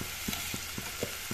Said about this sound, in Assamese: এইখিনি সেই তেলতে অলপ ভাজি ল'ম